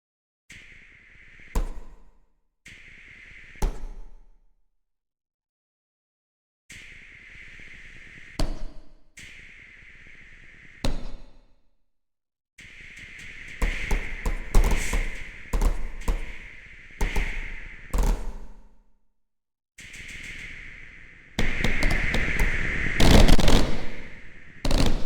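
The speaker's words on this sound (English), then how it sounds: "I'm punching a book and banging my table and banging the mic itself and then just layering all these effects." Homemade fireworks effects built from slapping, punching a book, banging a table and hitting a microphone: sharp single pops at first, then layered rapid crackling bursts and rattling volleys, close and punchy with silent gaps between.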